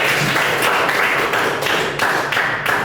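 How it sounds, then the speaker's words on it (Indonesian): A school class applauds together in a dense, continuous wash of many hands clapping nearby. It stays loud and even for a few seconds with no talk over it. "Dan tepuk tangan dulu untuk kita semua."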